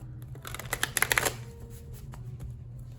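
Tarot cards shuffle close by in a brief riffling burst of crisp, rapid flutters that peaks and then fades into quiet handling of the deck.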